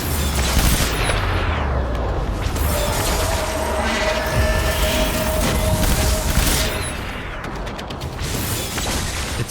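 Assault rifle gunfire in Death Stranding, heard as loud, dense bursts of rapid shots with clattering mechanical noise. The firing is steady and close, then eases slightly toward the end.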